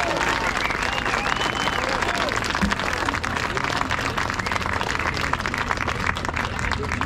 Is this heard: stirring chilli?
no